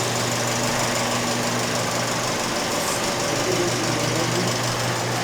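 A Fiat 500 1.4L engine runs steadily just after starting, following a coolant fill, a continuous loud idle with a low hum and a faint knocking rattle throughout, with no talk.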